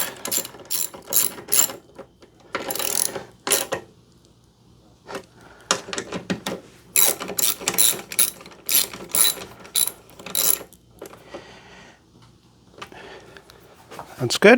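A hand ratchet tightens a bolt during a battery change on a 2014 Harley-Davidson CVO Limited motorcycle, with repeated bursts of quick clicking separated by pauses, close up, and someone speaking briefly between strokes.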